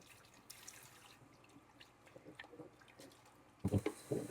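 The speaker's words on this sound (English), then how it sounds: "And I'm rinsing it with hot water." Hot tap water runs into a sink while a betta fish tank is rinsed, a faint steady trickle with drips, then louder splashing toward the end.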